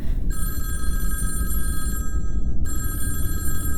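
A telephone rings with a steady electronic trill, pausing briefly before ringing again, clear and close with no talking.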